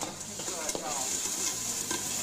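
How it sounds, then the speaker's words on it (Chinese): An automatic cooking machine stir-fries a dish in a busy commercial kitchen, a continuous loud sizzle with rhythmic stirring scrapes and clatter of the pan, close and steady. "这机器炒菜还真是飞快"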